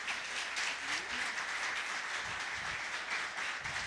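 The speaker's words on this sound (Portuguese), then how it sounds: "Vamos aplaudir Jesus" A church congregation applauds during a worship service, a continuous even roar of clapping filling the room, steady and fairly full from start to finish.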